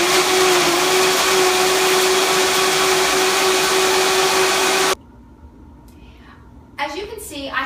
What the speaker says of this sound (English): I have a Vitamix, which is a very, very, very powerful mixer